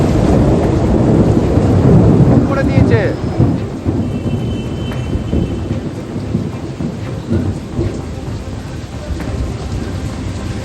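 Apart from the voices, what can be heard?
thunderstorm with rain in Kolkata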